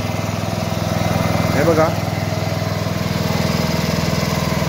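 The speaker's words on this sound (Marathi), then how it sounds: "आणि आमचं ट्रॅक्टर आहे" A tractor engine idles steadily on a Konkan farm beside a cashew factory, a close, continuous low drone throughout. Someone speaks briefly over it.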